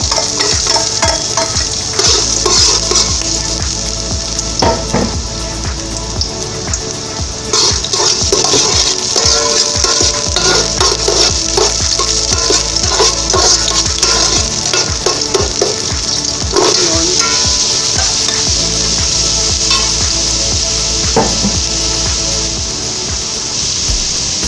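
Garlic frying in olive oil for a shrimp pilaf, a loud, continuous hiss and crackle with occasional stirring scrapes that holds steady from start to finish.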